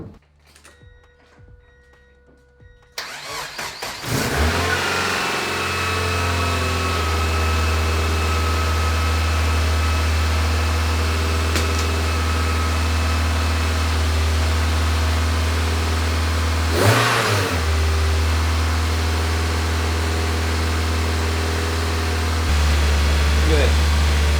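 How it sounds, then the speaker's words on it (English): A Mazda NB Miata engine cranks and fires after a quiet pause, then holds a loud steady idle with a brief rev midway and another change near the end, as people talk nearby. "we're about to see this first startup with everything actually properly connected and installed, so let her warm up"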